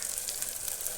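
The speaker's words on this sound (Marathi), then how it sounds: "कांदा असं लालसर होईपर्यंत" Onion fries in a pan for mutton soup, giving a faint, steady high sizzle for a single second with no voices over it.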